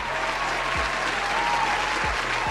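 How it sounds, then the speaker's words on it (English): A steady round of clapping from many hands, dense and even, carrying on without pause. "I'm giving a round of applause for that."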